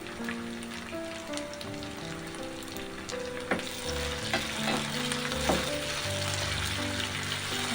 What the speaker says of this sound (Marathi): अर्धा चमचा आलं लसूण पेस्ट टाकून घेऊया आणि ती पण तेलामध्ये भाजून घ्यायची आहे